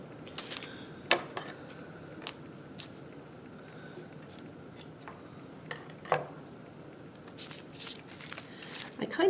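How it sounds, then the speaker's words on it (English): Scissors snip through ribbon strings on a bow for a paper plate wreath, a few sharp crisp cuts rising out of quiet rustling and handling noises, close to the listener. "so I think I'm going to go ahead and cut them"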